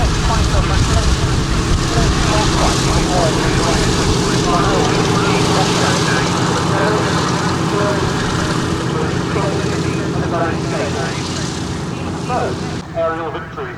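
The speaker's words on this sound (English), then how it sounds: "This is the only flying P-47 in Europe." Republic P-47D Thunderbolt 'Nellie B', the only flying P-47 in Europe, roars overhead with a loud, steady piston-engine drone that fills the whole stretch, its tone shifting slightly near the end, with faint voices underneath.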